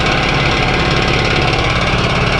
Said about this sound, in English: It's a Campbell Hosfeld compressor.